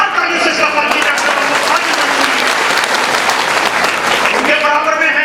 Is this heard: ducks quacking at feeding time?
no